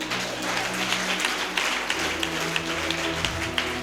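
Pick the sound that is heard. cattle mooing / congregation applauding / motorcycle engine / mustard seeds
congregation applauding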